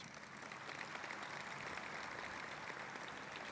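Audience applause at an alumni awards ceremony for the award winners, a steady, even wash of clapping that sounds somewhat distant and faint, holding throughout with no voices over it.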